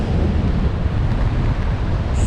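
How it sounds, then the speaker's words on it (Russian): Strong wind in a sea storm on the Crimean coast with giant waves, a loud, dense roar buffeting the microphone continuously, with heavy surf rumble underneath and no talk. "Сильнейший ветер."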